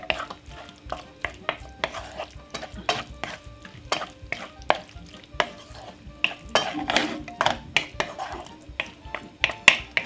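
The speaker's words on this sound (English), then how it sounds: "give it a stir." A spoon stirs ratatouille with ketchup in a pan, giving sharp, irregular clacks and scrapes against the metal every half second or so over a faint sizzle.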